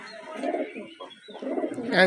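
A pair of Rajasthani red-marked pigeons, a male and a female, coo in soft, low repeated rumbles nearby, with a brief chirp at the end.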